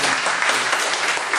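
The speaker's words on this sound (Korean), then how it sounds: "우리 진홍이 왔는데 박수 한번 줄까요?" Applause from a church congregation welcoming Jinhong during a Sunday daytime worship service, a steady, dense clatter of many hands clapping together, filling the room without a break for the whole moment.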